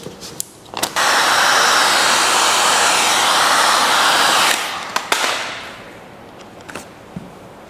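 A heat gun roars steadily for about four seconds as it warms vinyl wrap film on a car's front bumper, framed by short clicks and handling knocks before and after.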